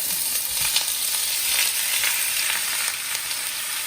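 Hot oil hisses and sizzles loudly and steadily in a smoky pan for shrimp and grits, a dense continuous frying roar up close with no talking.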